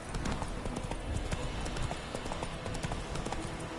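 Roach, the horse in The Witcher 3, gallops in a fast, continuous stream of hoofbeats, close and steady, layered over a loud, dense background of game ambience.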